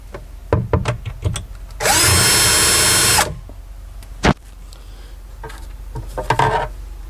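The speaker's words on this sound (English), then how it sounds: "With the shelf in the correct location, drill a hole through the clip" A power drill bores through a shelf clip on a tailored vanity, one loud sustained whine lasting about a second and a half, set between scattered handling knocks and clicks.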